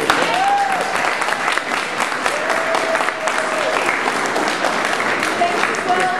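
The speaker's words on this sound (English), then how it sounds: "So a little moment of applause for Kate Heckman and the Charlotte Street Foundation." Audience applause at an art event honoring Kate Heckman and the Charlotte Street Foundation, loud continuous clapping from a crowd with faint whistles and murmured voices mixed in.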